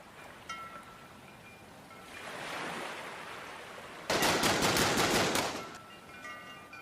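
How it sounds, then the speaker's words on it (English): A sudden burst of rapid gunfire rattles out for about two seconds, loud and sharp, following a swell of rushing noise. "I gasped and dropped to the ground as I heard gunshots and screams behind me"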